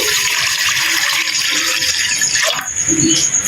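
Water, measured out for a homemade strawberry curd dessert, pours steadily into a pot as a continuous close splashing rush, with a brief shift in tone near the end.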